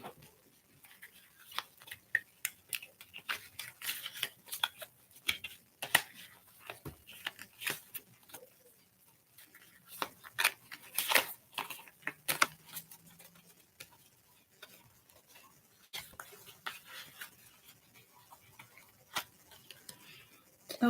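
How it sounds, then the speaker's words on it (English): Tarot cards being shuffled during a spiritual reading, giving a run of soft, irregular ticks and papery flicks at a low, steady level, with quiet pauses in between. "I'm shuffling the cards right now."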